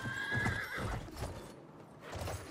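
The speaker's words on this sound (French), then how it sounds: "faut que j'arrive à faire que le cheval se lève" A horse rears and neighs in the Battlefield 1 beta, giving a sharp close whinny followed by a few hoof clops, with fainter game sounds in the background.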